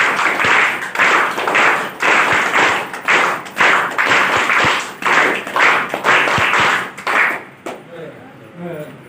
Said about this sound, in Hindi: इसके लिए ताली बजाकर इनका स्वागत कीजिए